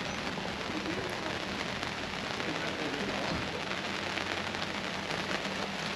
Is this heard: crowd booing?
no